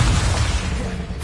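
A Confringo explosion spell in Hogwarts Legacy, a loud continuous booming blast with a dense rumbling low end, heard alone for about a second.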